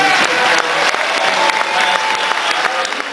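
Crowd at a Bill Clinton political rally in Abingdon, Virginia, cheering and applauding continuously, dense loud clapping filling the whole span.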